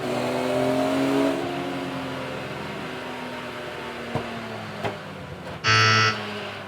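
BMW race cars tear around Donington Park circuit, engines droning and shifting pitch as they pass close by, with a few sharp mechanical knocks and a loud, bright burst of engine noise near the end.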